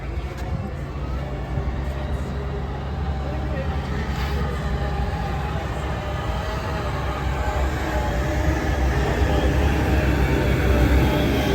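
The AlpenFury roller coaster train runs at Canada's Wonderland, producing a continuous rumbling, rolling roar that holds steady and builds slightly over several seconds.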